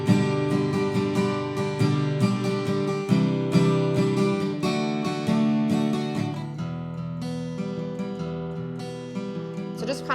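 Acoustic guitar fingerpicking of a song, a clear, close run of picked notes and ringing arpeggiated chords played alone with no talking.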